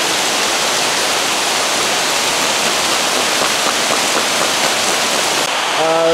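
Heavy rain pours steadily in Vietnam, a loud, dense hiss of water that stays constant throughout without a break.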